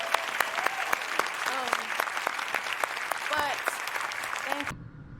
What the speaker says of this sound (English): Can we just cheer for Megan Thee Stallion